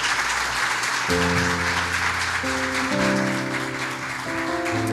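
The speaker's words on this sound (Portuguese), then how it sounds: "Você pode dar uma salva de palmas para Senhor Jesus?" A church congregation claps in praise at a worship celebration, steady applause running throughout while sustained organ or keyboard chords enter after the first second and shift pitch.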